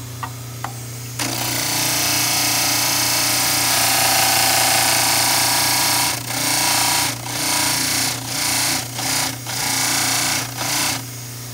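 A dental lab handpiece trims an acrylic denture base, starting with a loud, steady high-pitched whine that turns into a series of short grinding bursts with brief pauses as the tool touches the workpiece.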